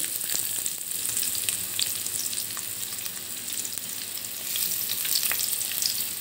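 Chopped onion pieces and cashews fry in hot oil for vegetable fried rice, giving a steady, close, hissing sizzle dotted with faint pops and crackles, with no one talking.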